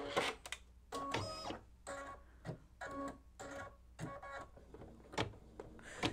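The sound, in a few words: embroidery machine stitching tack-down for mug rug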